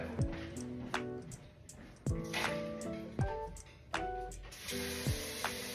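Chopped potatoes drop one after another into a pot of water, making a series of wet plops and splashes roughly a second apart, close up, with no talking.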